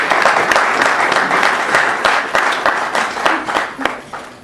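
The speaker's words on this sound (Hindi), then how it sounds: "आपकी भरपूर तालियां दें" Audience applause for a poet at a poetry gathering, a dense wash of many hands clapping steadily and fairly loud throughout, with no voices standing out.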